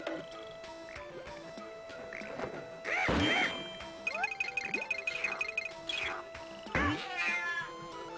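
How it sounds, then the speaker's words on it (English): A cat-like meowing sound effect from the Donkey Kong Country 2 video game, repeating in short wailing calls over game music, with crashing and ticking effects between them. "Yeah, it actually does sound like a cat."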